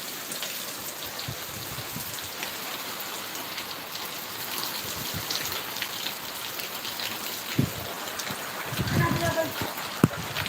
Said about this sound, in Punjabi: ਕੋਈ ਪੂਰਾ ਮੀਂਹ ਹੈ ਜਿਹੜਾ ਜੋਰਾਂ ਸ਼ੋਰਾਂ ਤੇ ਪੈ ਰਿਹਾ